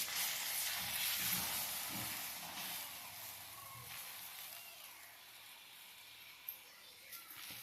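Omelette egg batter hits a hot tawa, a dosa griddle on the stove, giving a close, steady hissing sizzle that slowly fades, with a few faint clicks near the end.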